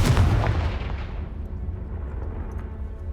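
A Confringo fire spell explodes in the video game Hogwarts Legacy, a loud booming blast at the start that rolls off into a fading rumbling tail, with no speech.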